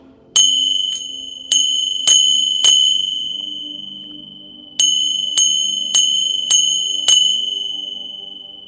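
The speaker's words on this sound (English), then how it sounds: "I'm going to sound the bell for the 10s anyway." A small bell struck repeatedly, ten bright rings in two groups of five, each ringing out and fading, close and clear.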